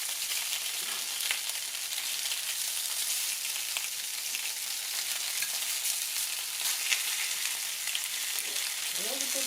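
Norwegian potato dumplings (kompe) frying in butter in a pan, a steady, close, crackling sizzle that stays even throughout with a faint voice near the end.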